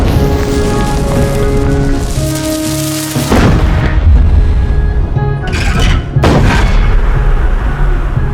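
Artillery fire in a sound effect: heavy, rumbling booms roll out over a dense, crackling background, with several sharp blasts standing out in the second half.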